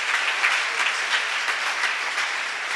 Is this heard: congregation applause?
yes